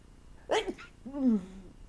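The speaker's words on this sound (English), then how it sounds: "oh, I'm going to sneeze" A quick sharp sneeze close by, followed by a short voiced exhale or groan afterward.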